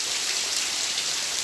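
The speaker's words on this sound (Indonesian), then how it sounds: "Dan turunlah hujan lebat meliputi bumi selama" Heavy rain pours down as a steady, dense wash of noise, loud and unbroken throughout with no voices.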